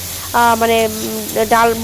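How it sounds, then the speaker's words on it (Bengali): Leafy greens frying and being stirred in a hot pan, a steady close sizzle with a couple of stirring scrapes over a short stretch. "অনেকক্ষণ ধরেই শাকটা আমি ভাজছি"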